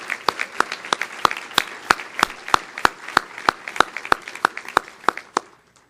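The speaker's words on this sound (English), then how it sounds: "Now let's have one more round of applause for all our extraordinary Athena finalists." Audience applause for finalists at an awards ceremony, with loud, sharp claps from nearby hands in a quick, fairly regular rhythm over a softer crowd patter that tapers off at the end.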